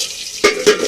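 Spices for a rasam tempering hit hot oil in a pan, making two quick, close hissing sizzles in under a second.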